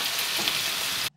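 Razor clams sizzle in a hot pan while a spoon stirs them, a dense, steady frying hiss close to the pan that cuts off abruptly at the end.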